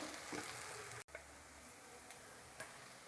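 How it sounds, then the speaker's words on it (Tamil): Moong dal bread toast frying in oil in a pan gives a steady close sizzle with a brief dropout near the start and a few faint ticks, without talk. "2 பக்கம் நல்லா பொரிஞ்சு ப்ரௌன் கலர் ஆயிடுச்சு."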